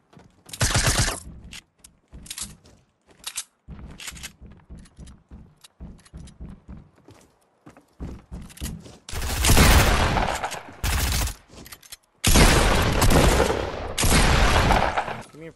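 Suppressed gunfire from a silenced weapon in the battle-royale game Fortnite, with a sparse run of quieter shots and then two long, loud bursts of rapid fire near the end.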